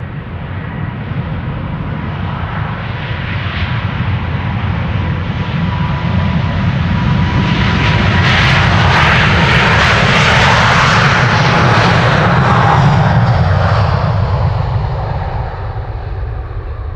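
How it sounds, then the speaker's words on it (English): A KLM jet airliner takes off from Amsterdam Schiphol Airport, its engine roar building to a loud broadband peak mid-way and then easing. The sound is continuous and close, with no voices. "This is KLM flight 791 to Sao Paulo."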